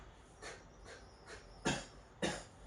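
A series of soft breathy huffs followed by two sharper, forceful coughs close together at the end.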